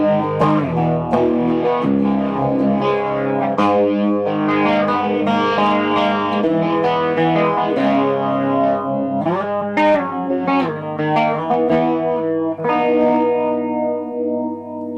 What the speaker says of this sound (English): I kind of like these like slow chug ninth chord kind of riffs.